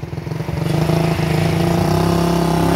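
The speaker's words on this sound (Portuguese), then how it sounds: "Na hora que você põe na primeira, já dá aquela aceleradinha gostosa." A Honda CG motorcycle pulls away in first gear, its engine note climbing from a choppy idle into a loud, steady, buzzing drone at close range.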